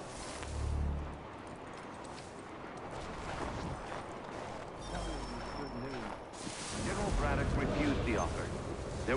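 Cannons firing in Assassin's Creed III, heard as a few deep, rumbling booms, distant to mid-range, spread across a battlefield soundscape with a voice speaking over parts of it.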